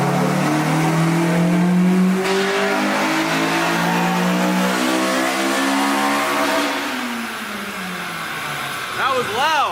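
A Honda K24A-swapped Integra Type R revs hard on a dyno, its engine note climbing in a long loud sweep through the gears before dropping off and blipping briefly at the end, close and harsh with no talk.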